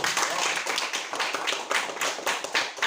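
A classroom of students claps together in a rapid, steady patter that continues for a few seconds, close and fairly loud, with no talking.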